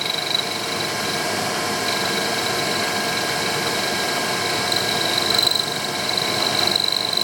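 A sensitive micro drilling attachment cuts into a mild steel clamp, giving a steady, continuous motor whine with a slight rise near the end. No voices are heard.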